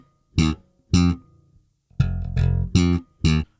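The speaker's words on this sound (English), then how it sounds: "I'm just playing the F twice, so." Slap bass snaps out short, punchy notes on F, played in pairs with gaps between them, close and loud with a percussive attack and no talking.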